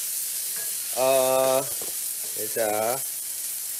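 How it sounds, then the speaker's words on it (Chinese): Fish cake frying in a pan for Malay-style mee goreng, a steady close sizzle underneath, while a person speaks briefly twice over it. "这个鱼饼我喜欢下去煎一下哦，因为冷冷的，煎一下会比较香。"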